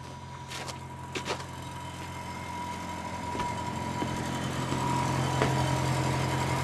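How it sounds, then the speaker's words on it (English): A wood-fired maple sugar evaporator running with a blower in a sugar house, heard as a steady mechanical hum and rumble with a low drone that grows slightly louder, plus a few faint knocks, no talking. "We just got the evaporator up and running."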